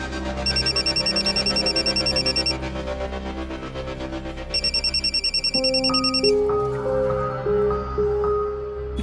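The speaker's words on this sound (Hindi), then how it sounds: "भैया का फोन।" A phone rings with a repeating electronic ringtone in short bursts, loud and close, followed by a melodic tone pattern; no one speaks over it.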